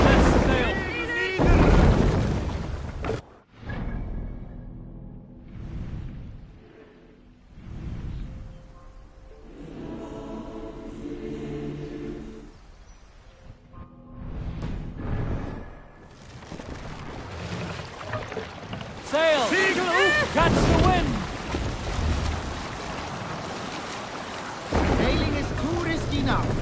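Longship under sail on open sea in Assassin's Creed Valhalla, with steady rushing water and wind swelling loud throughout, broken by a brief drop, while voices talk over it at times.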